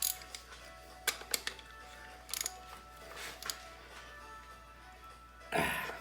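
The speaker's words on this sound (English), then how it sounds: "We'll put our oil drain plug back in, 15 millimeter." A 15 mm oil drain plug being threaded back into the oil pan of a 2011 Chevrolet Impala 3.5L, heard as a quiet series of metallic ticks and ratcheting clicks under a faint steady hum, ending in a louder rustle.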